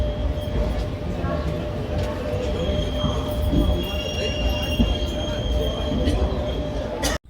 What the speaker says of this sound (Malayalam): ഇത് ബിലാസ്പൂരിലേക്കുള്ള ട്രെയിനാണ്